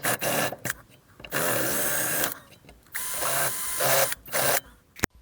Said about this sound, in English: Last step is to drill down the edges.